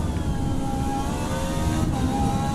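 A Mazda Miata engine revs hard in Battlefield 6, a loud, steady mid-pitched drone that climbs and holds with shifting tone and no talking.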